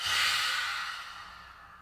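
A single deep, breathy exhale during yoga breathing in a vinyasa flow session, loud at first and slowly fading over about two seconds, with no talk.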